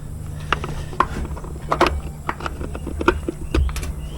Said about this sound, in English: Let's see if we can get another socket in there.